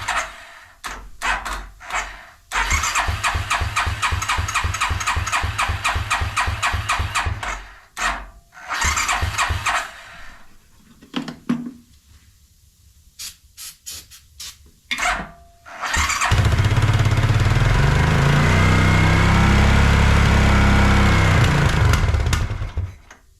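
A Suzuki King Quad ATV engine with its choke partly on cranks in rapid pulsing bursts, stalls, sputters through several tries, then catches and runs loud and steady near the listener.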